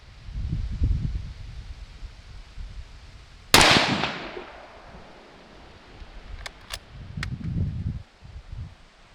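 A single loud, sharp crack from a Winchester M70 .308 rifle shot outdoors, followed by a fading tail, faint clicks of the action, and wind and rustling before and after.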